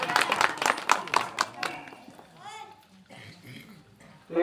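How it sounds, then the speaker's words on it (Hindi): An audience at a memorial gathering for a late community figure claps in welcome, a brief burst of dense applause, followed by someone speaking over a quieter room. "तालियों से स्वागत।"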